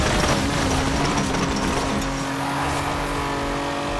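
A race car's engine roars steadily at high revs in the Forza Horizon 4 racing game, loud and sustained throughout with a hint of tire squeal and no talking.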